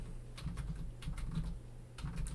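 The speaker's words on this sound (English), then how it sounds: "What is with my typing?" Computer keyboard keys clatter in quick, irregular bursts while someone works in 3D modeling software, the clicks close and fairly soft over a steady low background hum.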